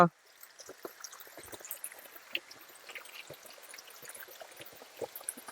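Spring water seeps out between rocks at Chilakala Gattu near Medaram, Mulugu, heard as faint, steady trickling with scattered drips and splashes at close range, without any speech.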